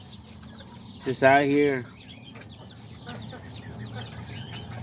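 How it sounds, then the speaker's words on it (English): Small kikiriki chickens and roosters kept together in a cage, with one loud, close squawking call rising briefly over a low background of farm noise while someone talks nearby. "these are all the little chickens. I have left them all in this cage"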